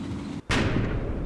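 A tank gun fires once in the Combat Mission: Red Thunder video game, a loud sudden boom after a brief gap, then a rumbling tail under a steady battle background.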